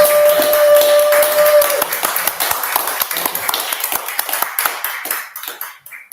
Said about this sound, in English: Let's do an applause.